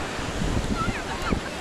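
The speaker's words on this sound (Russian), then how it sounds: "Я сейчас нахожусь в Португалии, на побережье Атлантического океана." Atlantic surf on the coast of Portugal rushes in a continuous close wash with heavy wind buffeting the microphone and faint voices in the background.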